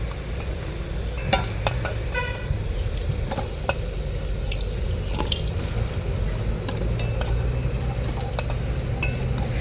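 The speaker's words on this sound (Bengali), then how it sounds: "তেল গরম হয়ে আছে এবার দিলাম শুকনো লঙ্কা দিলাম দারচিনি লবঙ্গ এলাচ দিলাম দুটো তেজপা" Dry chillies, cinnamon, cloves and cardamom sizzle steadily in hot oil in a pan, a continuous close frying hiss with a few small clicks and pops, no talking.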